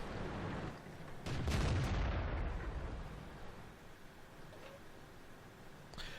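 A tank cannon fires a single shot in World of Tanks, a loud close boom with a sharp crack that rolls into a long fading rumble, alone with no voices.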